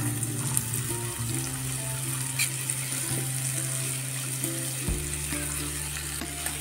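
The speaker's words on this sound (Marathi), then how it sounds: "आता या फोडी आपण छान परतवून घेऊ" Raw mango pieces with chilli powder and turmeric sautéing in a pan give a steady, close sizzle and hiss with occasional stirring scrapes, with no talking.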